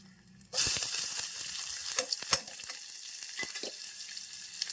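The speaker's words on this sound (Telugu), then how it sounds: "ఆనియన్స్ వేసేద్దామండి" Onions dropped into hot oil for a Telugu dal dish, a loud sudden hiss that settles into steady bright sizzling with occasional crackles and stirring clicks.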